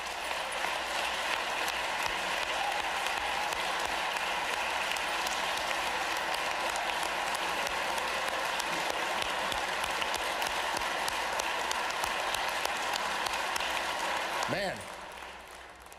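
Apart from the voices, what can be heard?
audience applause during a governor's budget speech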